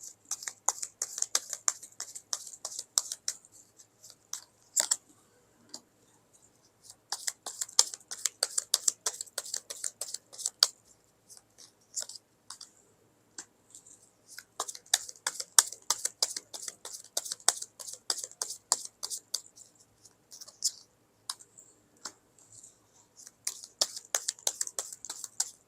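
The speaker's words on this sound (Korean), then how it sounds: "자, 추가 카드 뽑아가면서 리딩 시작하도록 할게요." Tarot cards are drawn and handled in quick, crisp bursts of clicks, riffles and taps, with short pauses between runs and no talking.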